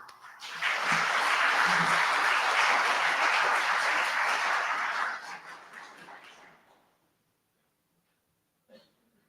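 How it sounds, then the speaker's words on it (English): A loud round of applause from the crowd at an interfaith iftar and Eid celebration, dense and steady for about five seconds, then thinning out and dying away to silence, with one brief sound near the end. "can we welcome with a loud round of applause?"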